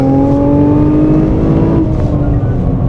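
A Nissan GT-R Japanese sports car engine roars loud and close, a steady revving drone that rises and then eases off partway through, with no talk over it.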